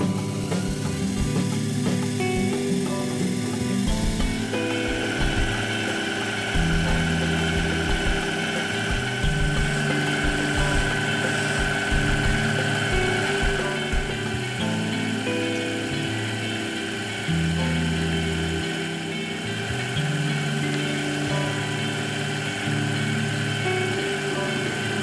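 A lathe runs steadily with a constant tonal machine hum while screw ends are hand turned against a T-rest, the drone shifting slightly in pitch now and then with no talking.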